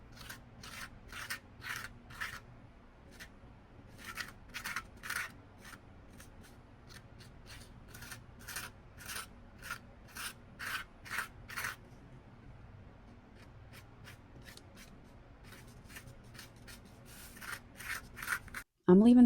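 Gritty sand texture being scraped across craft tiles, a faint, dry rasping repeated in quick irregular strokes, close and quiet with short pauses between bursts.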